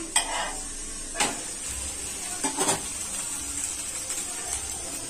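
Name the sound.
fasting dosa being flipped and frying on the pan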